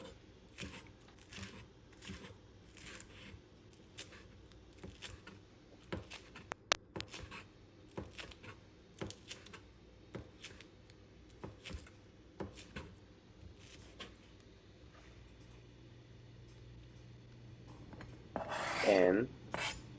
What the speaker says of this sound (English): Cut some scallions